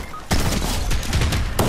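Rapid gunfire in the Fortnite video game, several overlapping shots and bursts in quick succession, loud and dense throughout with a couple of sharp louder blasts.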